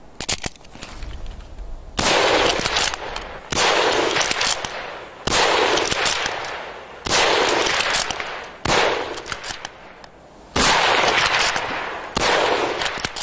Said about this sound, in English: Men were trained to fire up to 15 aimed shots a minute, but many could do much better than that.